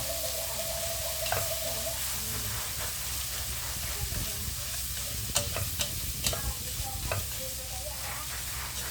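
Mung beans fry in a pan with a constant dense sizzle and hiss. Occasional utensil clinks and scrapes cut through, and a faint low hum sits underneath.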